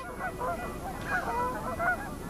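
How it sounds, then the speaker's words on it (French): Brant geese honk repeatedly in a noisy chorus over an eelgrass bed on the Côte-Nord shore, overlapping calls rising and falling against a steady background hum. "les bernaches, canards barboteurs, avec leur tintamarre"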